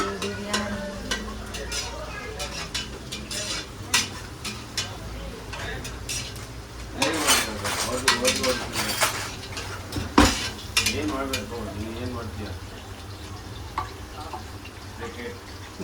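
A ladle stirs biryani masala in a pot, scraping and clinking against the metal in bursts over a soft sizzle, with a louder run of rapid scrapes midway and a sharp knock near the end.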